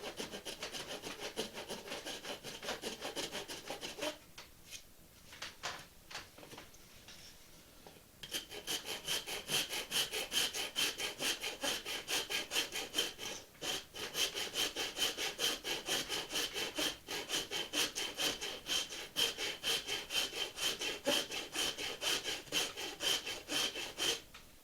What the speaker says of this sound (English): those little stubs need to be ground down